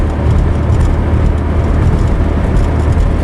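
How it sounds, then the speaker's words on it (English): Car driving on a highway between Duluth and Minneapolis, its tires thumping over road expansion joints every few feet under a loud, constant road roar. "There are expansion joints every few feet."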